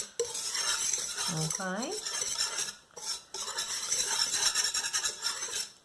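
A whisk beats vegan, oil-free lemon cookie batter in a large bowl, a close, rapid, continuous scraping and clinking against the sides, briefly pausing once, with a single short spoken word.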